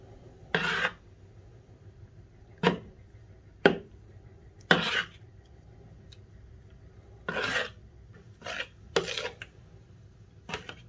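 A spoon stirs chia pudding with honey in a bowl, producing about ten short, scraping strokes at an irregular rhythm, separated by near silence.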